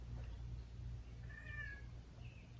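A pet cat gives a single soft, drawn-out meow in a quiet room, faint against a low steady hum.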